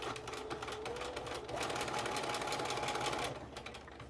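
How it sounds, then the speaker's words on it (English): A sewing machine runs steadily close by, stitching lines of elastic shirring in fabric with a fast, even mechanical whir and rattle that eases slightly near the end. "So now you can stitch down the second line."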